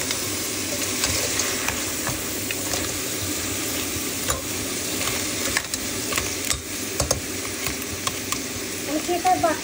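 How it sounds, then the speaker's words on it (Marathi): Crab masala with whole spices and bay leaf frying in oil, a steady close sizzle broken by scraping stirs and clinks of a utensil against the pan, with some talk in the background. "आता हे मी चांगलं फ्राय करत आहे"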